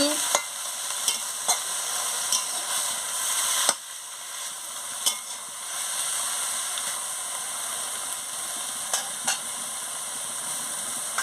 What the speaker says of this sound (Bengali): নুন দিয়ে ভালো করে একটু নাড়িয়ে নিচ্ছি